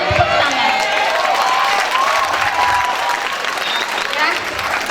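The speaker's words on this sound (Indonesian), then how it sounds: "Boleh tepuk tangan." A large school audience of students at a high school assembly in Jakarta bursts into steady, sustained applause, dense clapping mixed with scattered cheers and crowd voices.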